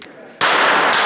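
Combat weapons fire during a sports competition in Ukraine, a sudden loud blast that breaks over quieter background noise and keeps going as a dense burst of gunfire.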